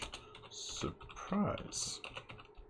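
Clattery bursts of typing on a computer keyboard that feels a bit odd to use, the quick clicks close and clear, mixed in with someone talking.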